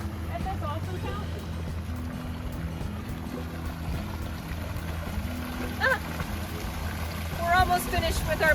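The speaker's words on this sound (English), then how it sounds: "What a perfect display at this awesome fountain." An outdoor fountain at Floyds Fork on the Louisville Loop in Kentucky splashes in a steady, rushing wash of water. The sound fills the whole stretch, with a few brighter bursts of spray.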